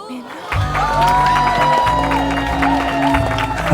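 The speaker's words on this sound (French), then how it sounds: "Je vous demande de faire un tonnerre d'applaudissements" A concert crowd claps and cheers loudly and steadily for a singer, with whoops and shouts rising over a sustained wave of applause.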